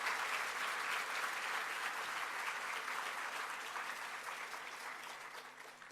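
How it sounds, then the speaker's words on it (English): Dense, even applause from an audience at a high school senior prizegiving, honoring trophy recipients; steady and full across the whole stretch, slowly tapering toward the end, with no voices over it. "We can give those trophy recipients another round of applause"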